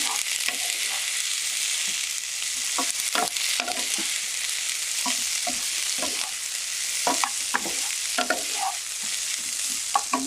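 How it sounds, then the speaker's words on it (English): Green beans saute in a hot pan with a steady, hissing sizzle, broken by frequent light clinks and scrapes of stirring, close up and with no talk. "you're going to add those to the pan. And just saute those up"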